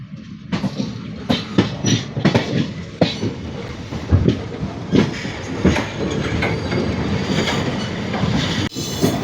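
A passenger train rolls into Rameswaram railway station, its wheels knocking over rail joints in loud, close, irregular clacks above a continuous rumble, with no talk.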